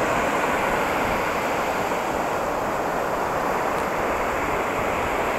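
Waves and wind at Bogmalo beach in Goa form a loud, steady roar of surf with constant wind buffeting the microphone and no voices.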